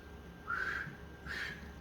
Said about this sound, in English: If I try to whistle, you'll see.